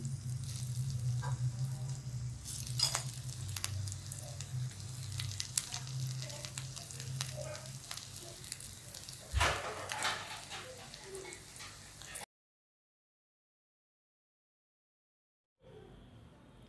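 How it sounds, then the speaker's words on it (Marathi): Thapi vadi shallow-fry in oil with a close, steady sizzle and occasional clinks and scrapes from turning, before the sound cuts to silence and faintly resumes. "आता मी वड्या परतून घेते."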